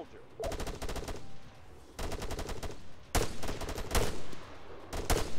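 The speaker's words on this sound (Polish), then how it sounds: "Na razie do nas strzelają." Several bursts of automatic rifle fire from Arma 3 infantry combat, with close, loud volleys separated by brief gaps and fainter shots in the background.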